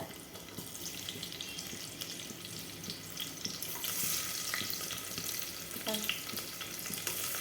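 Onion dropped into hot oil in a pressure cooker, made for potato and brinjal masala rice, gives a steady sizzling hiss that swells louder partway through, with faint clinks nearby.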